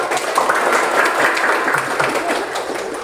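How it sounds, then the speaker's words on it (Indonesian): Classroom applause during a guidance and counseling teaching practice session, students clapping together in a dense, fairly loud burst that holds for a few seconds. "terima kasih tepuk tangan"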